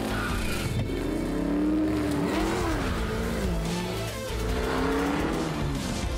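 Cartoon Hot Wheels car accelerating, a loud continuous engine whine that rises and falls in pitch with tire squeal over roughly six seconds, heard alone without talk.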